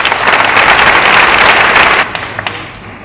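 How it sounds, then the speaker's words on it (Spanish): Audience applause for a speaker at the Pregón del Rocío 2010, the hermandad of Villa Manrique de la Condesa, a loud dense burst of clapping that cuts off sharply into a quieter room with a few scattered claps. "un aplauso para él"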